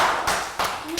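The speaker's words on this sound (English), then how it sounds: "Round of applause." Classroom round of applause, a brief burst of clapping from a group of young students, with a couple of sharp bursts close by within a single second.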